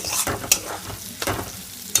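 Potatoes frying with chillies in a pan, a short burst of crackling sizzle with a few sharp spatula clicks and scrapes against the pan.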